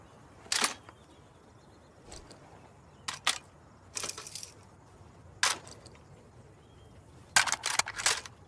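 A magazine change in the shooter game Insurgency Sandstorm, heard as a series of sharp metallic clicks and clacks spaced over several seconds against a quiet background, with no voices.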